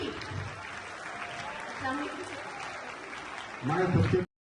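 Steady applause from an audience welcoming a guest at a formal gathering, continuous and moderately loud, swelling near the end, with voices mixed in underneath.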